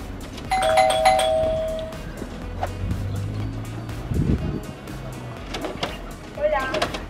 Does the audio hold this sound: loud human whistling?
no